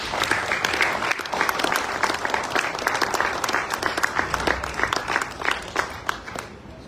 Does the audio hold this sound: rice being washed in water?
no